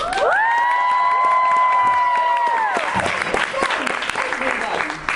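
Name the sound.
audience applauding and cheering at podcast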